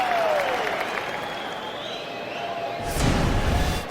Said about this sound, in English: And the crowd seems to love it.